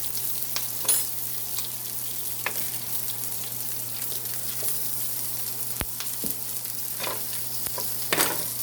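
Butter melting and bubbling in a hot pan alongside a New York steak, giving a steady, close sizzle and crackle throughout with a few faint utensil taps.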